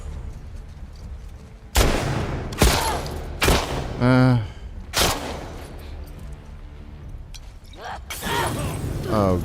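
Video-game gunfire: several loud, sharp shots and bursts, some rattling rapid fire, with continuous game ambience in between.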